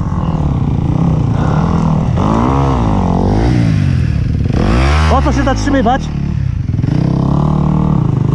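A four-stroke motorcycle engine revs hard and loud up close, pitch rising and falling in repeated bursts, with someone talking excitedly over it.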